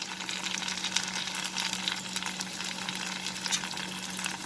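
Ginger garlic paste frying with cooked onion and dried red chilies in a pan for an okra and chicken curry, giving a steady, close, broadband sizzle with a faint hum underneath and no talking.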